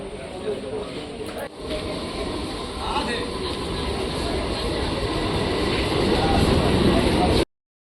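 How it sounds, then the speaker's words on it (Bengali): A train rumbles steadily closer as it pulls into a station, its broadband roar slowly building in loudness over several seconds, with faint voices in the background. "চলো, ট্রেন ঢুকবে।"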